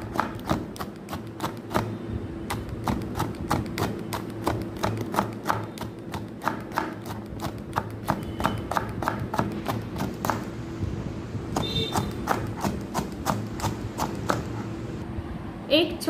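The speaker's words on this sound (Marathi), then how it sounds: "सर्वप्रथम सिमला मिरची बारीक चिरून घेऊया" A knife finely chopping three medium bell peppers (capsicum) on a board, a steady run of sharp, close taps continuing throughout, with a voice talking over much of it.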